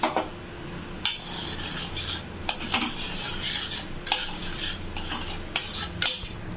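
A spoon stirs rava payasam, semolina cooked in milk with saffron-soaked milk added, in a pot. Repeated sharp metallic scrapes and clinks come over a low bubbling simmer.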